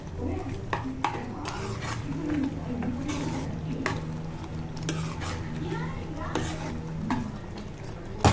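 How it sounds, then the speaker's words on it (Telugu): A spoon stirs curry with chopped coriander in a pot, giving repeated close scraping and clinking strokes against the metal over a low steady background hiss. "కొత్తిమీర వేసుకొని కర్రీ మొత్తం బాగా కలుపుకోవాలి"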